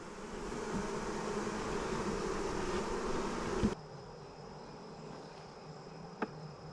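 Honey bees buzz in a hive during an inspection, a dense, fairly quiet hum of many wings that drops sharply after a few seconds, leaving a thinner buzz with a couple of soft knocks.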